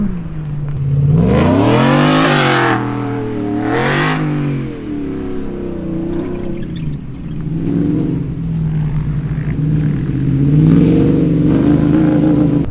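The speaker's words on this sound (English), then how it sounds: "I see Wes chugging along over here up the hill." An off-road truck climbs a desert hill, its engine revving and surging loudly with rising and falling pitch, then settling into a steady, labouring drone as it chugs uphill.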